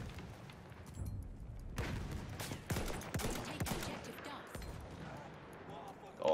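Sniper rifle shots in the online shooter Battlefield 1 crack past the player, several sharp distant-sounding reports scattered over background battle noise, under a player's running commentary.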